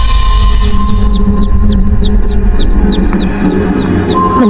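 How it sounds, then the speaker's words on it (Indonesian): High, thin peeping of baby chicks in a steady run of quick chirps, over a constant low rumble and hum. "suara anak ayam."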